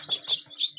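Newly hatched chicks in a home incubator let out three short, high chirps in quick succession, close and clear with little else around them.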